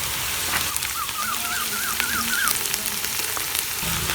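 Coarsely crushed bitter gourd seeds frying in oil in a pan, a steady close crackling sizzle with faint scraping, no voices heard.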